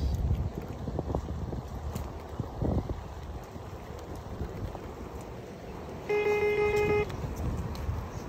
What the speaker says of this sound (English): That is a sound to let you know that you are over speeding as a new rider.